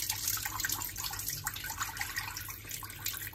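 Water running and trickling steadily as cooked mürdük legumes are strained, a continuous close splashing flow with faint dripping throughout and no voices.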